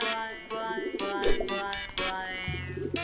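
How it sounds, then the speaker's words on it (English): Pigeon cooing from the video game Hiveswap, a few soft, brief coos heard close and clear among other short game sound effects. "You mean one of your pigeons, don't you?"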